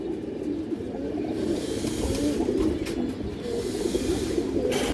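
Najra Kaldom pigeons cooing softly in a loft, low murmuring coos repeating under a steady background hum, with a few faint rustles and no talk.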